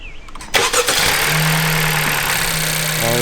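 An Acura Integra A-Spec fitted with a K&N air intake cranks briefly and fires up, the starter whirring before the engine catches with a sharp rev, then settles into a steady, close idle with no talking.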